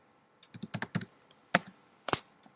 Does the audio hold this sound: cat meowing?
no